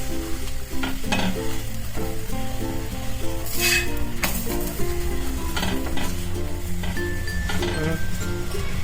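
Bajra methi thepla roasting on an oiled griddle, a steady close sizzle and fry with occasional clinks of utensils, under a voice talking throughout.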